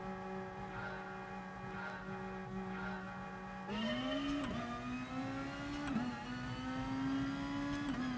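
A race car engine in GT Sport holds a steady note, then rises sharply as it revs and shifts through a couple of gears, dropping and climbing again. The sound is continuous and moderately loud, with no talking.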